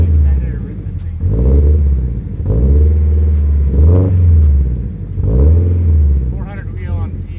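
Supercharged BMW E92 M3 engine revving close by, three or four swelling rev blips that rise and fall in a steady rhythm, deep and loud, with brief excited speech at the end.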